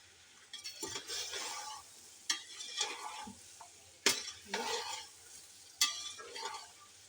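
Chicken with garlic-ginger paste sizzles steadily in a pan while a utensil stirs and scrapes, with repeated sharp clinks against the metal.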